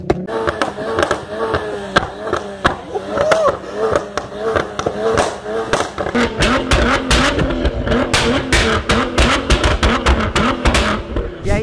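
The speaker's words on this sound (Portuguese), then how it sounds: "Tem muito carro que solta backfire" Modified Volkswagen Jetta TSI firing sharp, loud exhaust backfire pops and crackles in rapid bursts over a revving engine, growing denser and more frequent in the second half.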